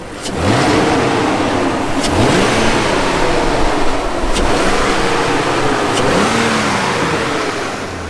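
A BMW Z3 with the 3.0 engine, recovering from a misfire, revs repeatedly in loud rising and falling sweeps, close and continuous with no talk.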